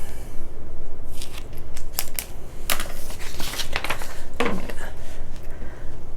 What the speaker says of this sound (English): Cut that paper out.